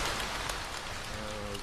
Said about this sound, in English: Ah, that's a rainstorm.